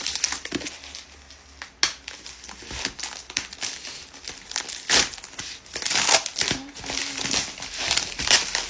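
A heavily taped mail package of books is pulled open up close, with loud crinkling, crushing and tearing of tape and packaging in irregular bursts, and a voice speaks briefly.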